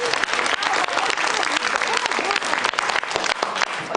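A studio audience at a night-time television show applauds a dance, dense continuous clapping with some crowd noise filling the whole stretch.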